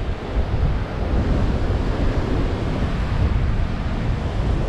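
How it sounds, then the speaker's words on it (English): Ocean surf surging and crashing below tall sea cliffs where mackerel are being fished, a continuous loud roar of breaking water with wind buffeting the microphone throughout. "we need these waves to go away"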